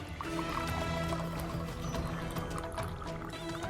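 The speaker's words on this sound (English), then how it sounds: "So now you can pour the milk." Milk poured into simmering masala chai in a pan, a steady close liquid pour with bubbling underneath, continuous for a few seconds with no talk.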